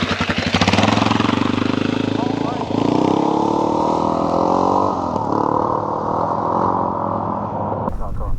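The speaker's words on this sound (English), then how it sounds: "The fast clip idle is a hint that the carburetor float level is high or there's too much fuel in the float bowl." A 2003 Honda XR400R motorcycle just out of storage runs at a fast idle, a carburetor with too much fuel in the float bowl, giving a close, steady engine chug after a rougher start, with people talking over it.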